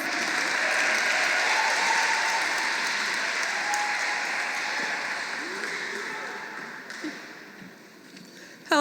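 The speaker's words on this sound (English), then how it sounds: "Let's give her a beautiful round of applause." An audience at a Carl B. Stokes Day ceremony applauds to welcome communication strategist Fatima Harris, a steady, loud wash of clapping that holds for several seconds before thinning out toward the end.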